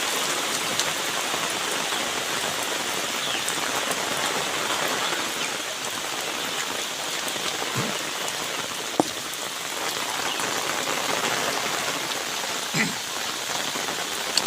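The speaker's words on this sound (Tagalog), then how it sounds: "Malakas talaga yung ulan." Heavy typhoon rain pounds down steadily on Burias Island, a dense, continuous hiss of drops on surfaces that stays loud and unbroken throughout, with a few sharper drips and splashes standing out near the end.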